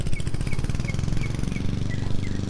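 Pulsing, rapid engine chug of a lawn mower as a neighbour mows grass, fairly close and steady throughout with a faint whining tone above.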